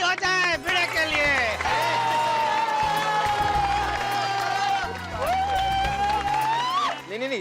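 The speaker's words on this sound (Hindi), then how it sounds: "तो एक और बार ताली हो जाए भिड़े के लिए।" A crowd in a housing society applauds and cheers for Bhide, the teacher, with loud continuous clapping and whoops layered under a sustained musical tone and some talk.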